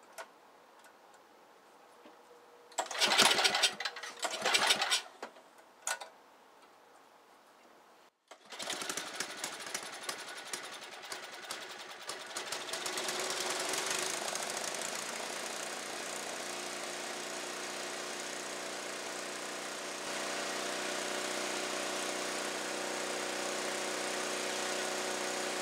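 A Briggs Tecumseh small engine, its stuck valve just freed, cranks with a few loud pulls, then starts and settles into a steady, loud, buzzing run that continues to the end.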